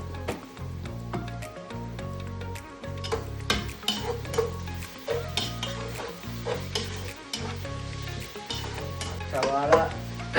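Onions sautéing in a pan for chicken curry, steady sizzling broken by repeated rhythmic scraping stirs of a utensil against the pan, close up with no talking.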